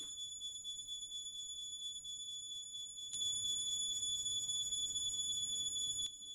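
Steady electronic buzzer tone moved toward and away from a listener to show the Doppler frequency shift, a continuous shrill beep that grows louder midway, then drops back, with no talking over it.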